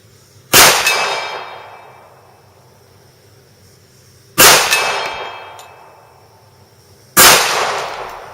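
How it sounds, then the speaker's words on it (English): Three sharp pistol shots from a Kimber handgun, each a loud broadband crack followed by a long fading echo, spaced a few seconds apart with quiet between them. "Now let's check out the recoil of the Kimber."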